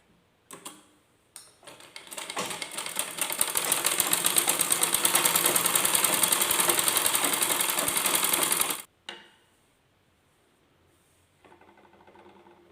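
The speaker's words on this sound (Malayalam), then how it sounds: "ഇങ്ങനെ മടക്കി ആ ലൈനിൽ കൂടി സ്റ്റിച്ച് ചെയ്യുക" A sewing machine stitches pin tucks into folded fabric, a short start-and-stop, then a long run of fast, even mechanical whirring and ticking up close, stopping abruptly before faint handling sounds.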